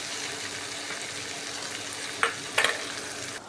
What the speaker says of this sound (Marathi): याला बी तेलात मस्त परतून घ्यायचं